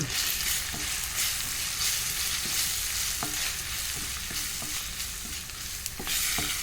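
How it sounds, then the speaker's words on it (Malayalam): Egg curry with pepper and turmeric powder is stirred in a frying pan: a constant close sizzle runs throughout, broken by soft scraping and tapping strokes of the spoon. "ഇനി കുരുമുളക് പൊടി, കുറച്ച് മഞ്ഞൾപ്പൊടി, ഈ പൊടികളൊക്കെ ഇട്ടിട്ട് നമുക്കൊന്നിന്ന് ഇളക്കി കൊടുക്കാം."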